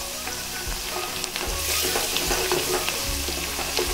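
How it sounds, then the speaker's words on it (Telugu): Onions fry in a pan with ginger garlic paste and a pinch of turmeric, a close, steady sizzle broken by the scrape and clatter of stirring. "ఇది బాగా ఫ్రై అనేది అవ్వాలి."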